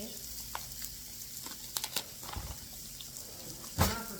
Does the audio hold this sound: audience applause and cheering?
no